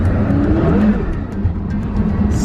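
A Porsche Carrera GT's naturally aspirated V10 revving on a mountain road, with a loud, sustained engine roar that rises in pitch, dips slightly, then holds steady.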